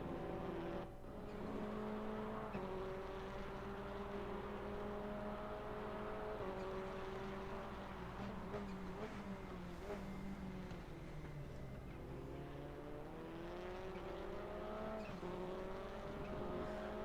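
An F4 open-wheel race car engine in a racing game drones steadily throughout, its pitch climbing and dropping with gear changes and throttle, continuous and fairly close with no talk.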